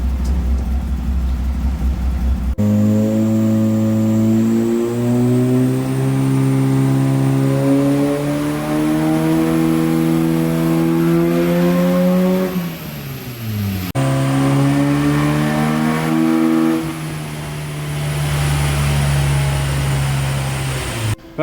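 A VW Mk1 engine on a dyno roars at high RPM, climbing steadily in pitch, dipping briefly, then revving hard again before easing off, loud and close throughout.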